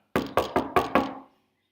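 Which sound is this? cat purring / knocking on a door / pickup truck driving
knocking on a door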